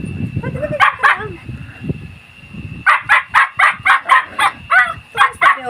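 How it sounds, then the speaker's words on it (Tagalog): Playful puppies bark and yip in quick bursts, a pair of yaps early on, then a rapid run of about nine sharp barks close to the mic, with a low murmur or whimper between. "Kaharutan. Kukulit ng mga aso."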